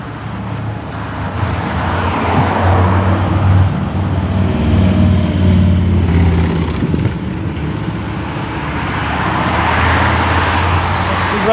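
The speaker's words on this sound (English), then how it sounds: "Reasonable amount of traffic." Steady morning road traffic on Goodwood Road in Adelaide, a continuous roar of cars and heavier vehicles passing close by, with no talk.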